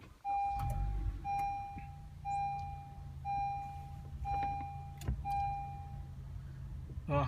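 A 2015 Honda CR-V Touring being switched on, with a series of short, repeated electronic chimes in a steady rhythm over a low cabin hum, followed by a faint click.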